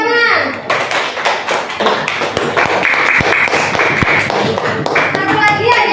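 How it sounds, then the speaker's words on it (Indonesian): Classroom clapping from a group of students after a teacher's question, dense patters of hand claps running for several seconds with children's voices mixed in. "Oke, beri tepuk tangan."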